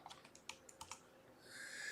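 Fast typing on a computer keyboard while fixing a coding error, a run of light, close keystrokes with uneven spacing that gives way to a steady soft hiss.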